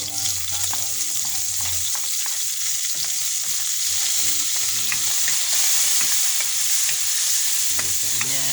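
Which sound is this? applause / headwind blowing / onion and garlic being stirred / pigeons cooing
onion and garlic being stirred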